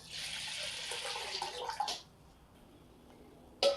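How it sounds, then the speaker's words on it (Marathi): Water is poured from a tap into a pot of washed lentils and rice, a steady hissing gush for about two seconds before stopping, then a quieter lull and a short final splash. "आपण आता त्याच्यामध्ये वरपर्यंत पाणी घालून घेऊया"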